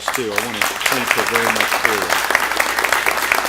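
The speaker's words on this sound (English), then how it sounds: "Let's give her a round of applause" Audience applause at a governor's bill-signing event, steady clapping from a crowd continuing under someone speaking at a podium.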